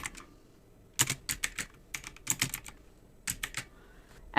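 Bursts of keystrokes on a computer keyboard while text is typed for an acrylic wedding welcome sign, clicks arriving in quick clustered runs with short pauses between, close and clear with no talking.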